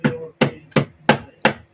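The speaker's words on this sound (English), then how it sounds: "I'm going to hammer this down" Five sharp metallic hammer strikes on jewelry wire land at a steady, unhurried pace, each a crisp close-up tap with a short ring and silence between.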